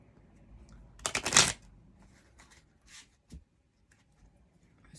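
Playing cards riffle-shuffled in one brief loud burst, followed by a few quieter snaps and slides as cards are drawn, close and otherwise quiet.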